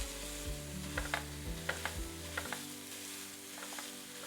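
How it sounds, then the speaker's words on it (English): Ground meat and onions cooking in olive oil in a pot, a steady close sizzle with a few sharp scrapes and knocks as the meat is chopped up and stirred. "Now add in your ground meat and chop it up"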